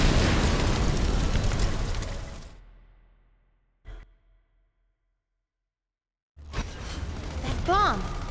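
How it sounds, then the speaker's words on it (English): A bomb explodes in the video game Sand Land, a loud broadband blast that roars for about two seconds and then fades out. After a short pop and a stretch of silence, noisy action and rising tones return. "That bomb!"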